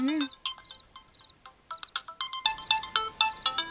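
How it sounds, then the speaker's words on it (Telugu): A mobile phone rings with a bright, repeating electronic melody of quick beeping notes, clear and close, signalling an incoming call at an unexpected hour. "ఈడేంటి ఈ టైంలో ఫోన్ చేస్తున్నాడు?"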